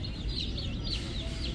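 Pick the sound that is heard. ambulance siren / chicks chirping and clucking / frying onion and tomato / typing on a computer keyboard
chicks chirping and clucking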